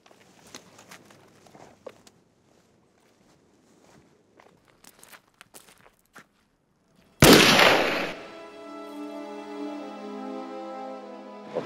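Firing squad rifle volley at the 1945 execution of Pierre Laval: scattered faint shuffles and clicks, then a single sharp, loud simultaneous blast that rings and decays into a long sustained tone.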